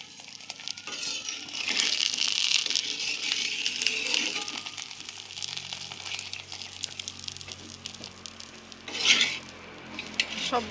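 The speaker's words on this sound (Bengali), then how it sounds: "তো বাকিগুলো আমি এইরকম করে ভেজে নিব।" Potato-stuffed parathas fry in a pan with a light, uneven sizzle, punctuated by clinks and scrapes of a utensil against the pan and a louder hissing burst near the end.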